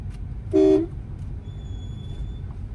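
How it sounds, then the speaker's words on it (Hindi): A single short car horn honk blares nearby over steady traffic rumble in narrow city lanes, followed by a faint distant tone. "घबराइए नहीं, देने दीजिए हॉर्न।"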